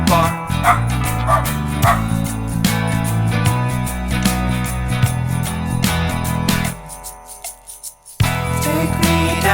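A dog barks repeatedly in quick, yapping bursts, loud and close, layered over dense continuous music that briefly drops away near the end before returning.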